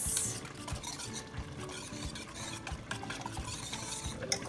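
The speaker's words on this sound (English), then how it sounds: "Give it a quick stir" Spoon stirring creamy bacon chowder in a pot after the broth mix goes in, with steady scraping and clinking against the pot and a faint sizzle beneath, continuous and close without any talk.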